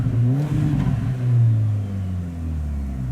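A Mercedes GLA 45 AMG's exhaust revs up and down with deep burbling pops, the engine note swelling, dropping and rising again at close range.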